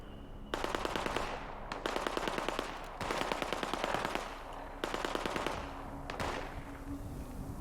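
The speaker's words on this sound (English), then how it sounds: "Why is there gunfire everywhere?" Rapid automatic gunfire from the video game Fallout 76 comes in four sustained bursts separated by brief pauses, loud and close with a sharp rattling rhythm and no talk.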